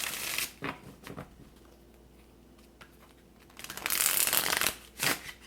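Tarot cards riffle and shuffle in a few quick bursts, with a longer, louder shuffle near the end, close up against a quiet room.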